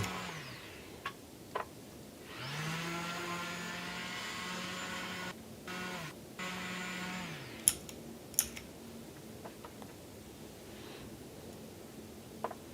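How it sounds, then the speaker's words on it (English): An electric sander whirs up to a steady droning whine while sanding wood for several seconds, then winds down, followed by a few scattered clicks and knocks. "Then a bunch of sanding."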